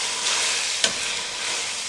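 Minced meat and capsicum fry with a loud, steady sizzle in a pan while a spoon stirs them, with one sharp scrape of the utensil midway.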